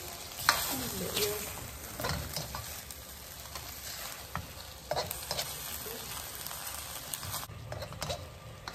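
Seafood stir-fried in a pan for prawn satay clay-pot rice, a steady sizzle with scraping stirs and light pattering spatter close by, no talking.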